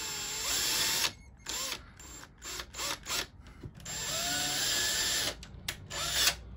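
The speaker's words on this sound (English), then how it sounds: "We just need to create a small pilot hole, maybe about that much in" Power drill boring a small pilot hole in a picture frame, the motor whining in several short bursts with brief stops between, close and fairly loud with no talk.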